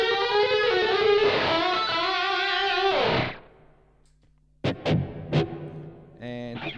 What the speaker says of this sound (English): I'm going to turn on a second delay, a slapback delay, and an overdrive for the solo